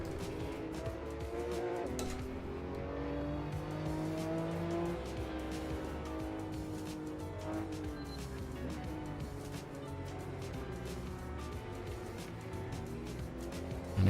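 Porsche with a 3.8 litre twin turbo flat-six making about 580 horsepower and a PDK gearbox, heard as a steady, loud engine drone with rising and falling revs and faint tire noise throughout.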